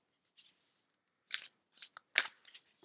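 Oracle cards being shuffled during a daily reading: a few short, soft riffling bursts separated by pauses, close and quiet with no talking.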